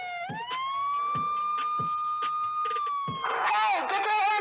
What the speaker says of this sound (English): Are those sirens out here?